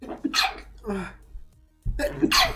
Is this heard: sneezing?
yes